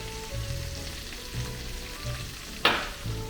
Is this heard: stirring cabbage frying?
yes